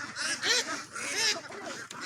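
A flock of egg-laying ducks quacking and honking close by, overlapping calls in bursts, with no talking.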